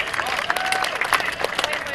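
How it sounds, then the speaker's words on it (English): Crowd applauding at a 2011 Arizona Diamondbacks baseball fan fest, a short burst of scattered clapping under an amplified announcer's voice. "give them a big round of applause."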